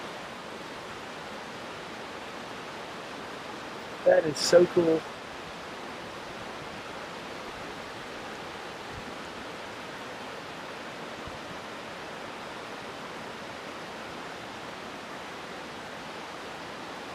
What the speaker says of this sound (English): Look at this river running right through town.